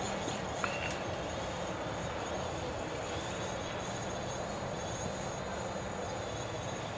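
A DJI Mavic Pro drone fitted with low-noise propellers flies with a constant, even whirring hum, steady at moderate loudness throughout with no pauses.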